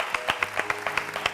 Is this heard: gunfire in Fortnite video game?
no